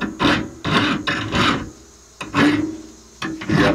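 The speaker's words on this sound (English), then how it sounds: "I'm going to take in and put a little chamfer on this." A metal hand file chamfers the end of a steel rod, likely a barrel rod, with about six rhythmic rasping strokes, close and loud, separated by brief pauses.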